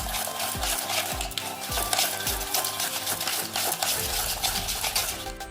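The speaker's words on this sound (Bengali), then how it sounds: "এটা আগে আস্তে আস্তে গুলিয়ে নিই আমি তেলের সাথে" Sugar being stirred into oil in a bowl for Christmas cake batter, with steady scraping and clinking strokes repeating in an even rhythm, close and alone.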